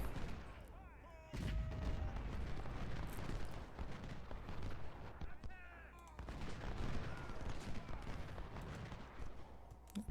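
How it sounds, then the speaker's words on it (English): Musket and artillery fire from a Civil War battle in the strategy game Ultimate General: Civil War, with dense, continuous volleys and heavy booms rolling on throughout at a steady, moderately distant level. "Seems like they're really shooting."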